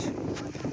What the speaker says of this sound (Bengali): সেই লেভেলের বাতাস